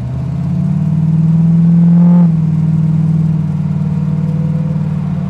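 A 1932 Ford Model Y hot rod engine pulls hard up close, its loud, steady drone climbing in pitch for a couple of seconds before easing back to a smooth cruising hum, with no talking over it.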